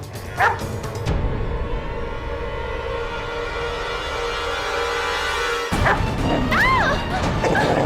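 A dog that has attacked several people barks and whimpers in a tense indoor scene, with yelps and a sharp crash at the start and end and a sustained tonal drone between them.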